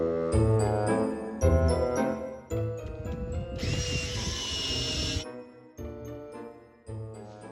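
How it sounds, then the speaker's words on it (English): A power drill bores holes for bolts in a repair job, its whine rising and dropping in loud bursts, with one sustained high-pitched drilling stretch in the middle and no talking. "He drilled some holes for the bolts to go through."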